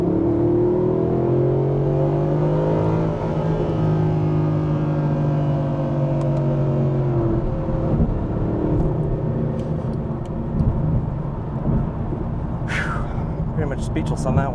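A Mercedes-Benz SLS AMG accelerating hard in Sport Plus mode, its engine note loud and continuous with pitch rising through the gears over a steady rumble; a voice speaks briefly over it.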